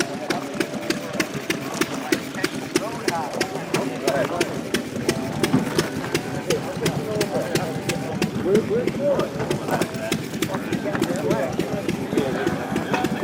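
A small Delco Little Joe stationary engine runs steadily at an outdoor winter engine show, a regular rapid firing beat close by, with people talking over it throughout.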